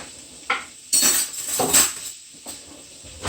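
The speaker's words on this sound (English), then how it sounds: "I'm just going to cut into my chicken" Metal spoon clinking and scraping against a plate while cutting into cooked Thai peanut chicken, a few close sharp taps and scrapes.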